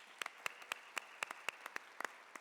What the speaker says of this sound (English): let's just give yourselves a round of applause for even being here